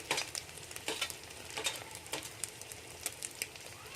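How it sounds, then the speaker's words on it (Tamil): Green chillies and onion stir-fry in a pan for egg schezwan fried rice: rapid, rhythmic scraping strokes over a continuous sizzle, close and fairly faint, with no talk. "பச்சை மிளகாய், வெங்காயம்,"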